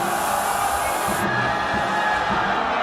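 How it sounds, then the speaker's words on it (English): A large crowd at a Super Smash Bros. esports tournament yells and cheers in a dense, steady roar that stays loud throughout. "The crowd is just growing in power. They're just yelling."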